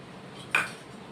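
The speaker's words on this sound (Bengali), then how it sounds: "আমি কড়াই বসিয়ে দিয়েছি" An iron kadai set down on a home kitchen stove makes a single short metallic clank that rings briefly, then fades into a quiet room.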